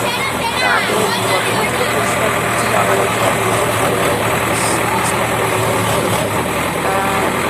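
A crane truck's engine idles and rumbles steadily nearby on a street during drain cleaning, a continuous low drone with people talking over it.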